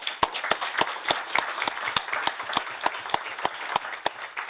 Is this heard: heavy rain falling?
no